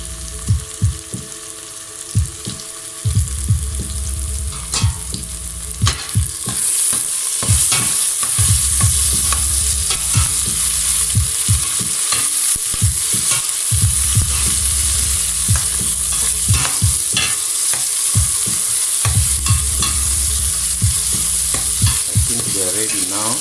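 Chopped tomatoes and onions fry in a pan as the base for biryani, giving a loud, steady sizzle broken by repeated scraping and clicking stirs, with no voices.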